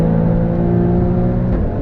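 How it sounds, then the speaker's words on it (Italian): A loud, close engine note comes from a 510 hp Alfa Romeo Stelvio Quadrifoglio SUV on a racetrack. It holds a steady roar with a brief sharp pop near the end. "Come scoppietta poi, ragazzi, è pazzesca!"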